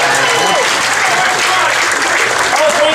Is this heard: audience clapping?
yes